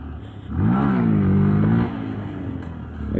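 Honda Grom motorcycle engine revving hard during a wheelie attempt, a rising then steady mid-pitched engine note that swells loud for about a second and a half before easing back to a lower idle.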